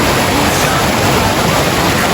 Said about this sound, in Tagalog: May tubig naman yung mababagsakan. Kaso running water.